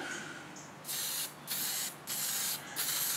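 Brown rust-coloured spray paint hisses from an aerosol can onto model railway rails in four close, steady bursts of about half a second each, with brief pauses between them and no voices.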